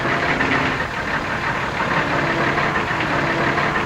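A truck engine idles steadily at a roadside, a dense continuous rumble that stays loud and even throughout with no break.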